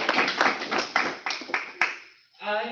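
Audience applause at a 15th anniversary workshop event, a burst of clapping that fades out midway, followed by a brief moment of talk.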